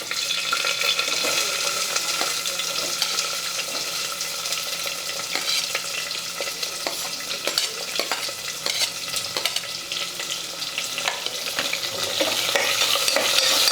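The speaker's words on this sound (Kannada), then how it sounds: "ಈ ಉಳ್ಳಾಗಡ್ಡಿ ಹಸಿ ವಾಸನೆ ಹೋಗೋರಿಗೆ ಫ್ರೈ ಮಾಡ್ಕೋಬೇಕಾಗ್ತದೆ." Three or four long-sliced onions fry in a pan for hotel-style paneer pulao, sizzling steadily and close up, with scraping stirs breaking through the hiss and no voices.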